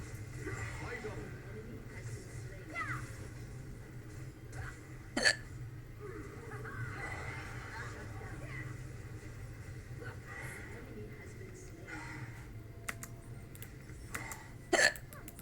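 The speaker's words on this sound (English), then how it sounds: "Why do my hiccups sound weird?" Two sharp hiccups from a person stand out against a low rumbling background with quiet murmuring, each a brief abrupt catch spaced about ten seconds apart, close and moderately loud.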